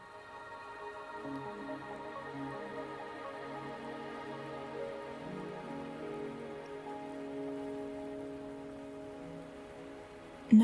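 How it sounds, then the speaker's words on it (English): Steady rain falls in the Wuthering Waves game world, a soft continuous patter on surfaces under sustained tonal music, with a brief sharp sound at the very end. "Are you trapped here by the rain?"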